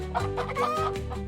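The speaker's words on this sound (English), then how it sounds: "8 clucking chickens!" Chickens clucking in a short, busy burst of several overlapping calls, close and fairly loud with no talking.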